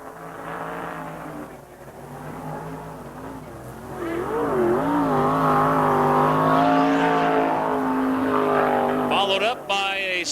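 USAC midget race cars lapping Raven Raceway in 1987, engines droning and rising in pitch as they rev through the laps, loud and steady, with a commentator talking over the noise throughout.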